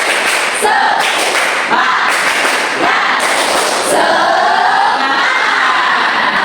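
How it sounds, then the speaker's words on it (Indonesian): A classroom of pupils performs a rhythmic clapping chant, loud patterned bursts of claps in repeating groups, separated by short gaps, with young voices joining in. "kalau ibu bilang tepuk semangat, sudah tahu harus apa?"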